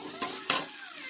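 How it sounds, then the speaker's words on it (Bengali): Eggplant frying in oil in a pan over low heat, with two short stirring scrapes over a soft, steady sizzle. "এইভাবে হালকা আঁচে ভেজে নিতে হবে বেগুনগুলো।"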